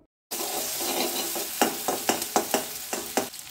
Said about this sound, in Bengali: এখন আমি পেঁয়াজ ভেজে আলু, টমেটো, লঙ্কা সব মশলাপাতি দিয়ে ভালো করে কষাচ্ছি।